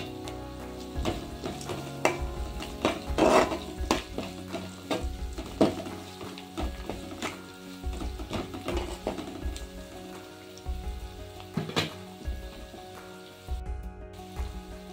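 Ginger garlic paste and turmeric frying in hot oil while being stirred for a bitter gourd curry, a steady close sizzle broken by repeated scraping, clinking stirs.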